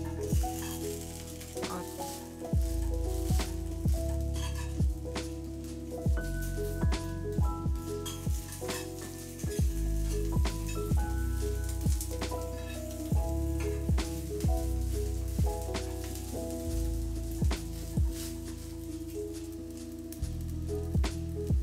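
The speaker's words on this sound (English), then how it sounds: "so I'm just searing all of this" Ingredients for Native American tacos searing in a pan, giving a steady close sizzle with repeated clattering knocks of a utensil stirring against the pan throughout.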